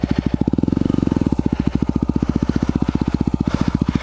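A motorcycle engine idles and putters close by in a fast, even thumping rhythm while the bike is turned around, with a slight rise in revs partway through.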